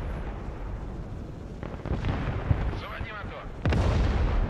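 Artillery fire in the Broken Arrow video game: low rumbling booms and rolling blasts over a constant noisy bed, with a heavier impact near the end.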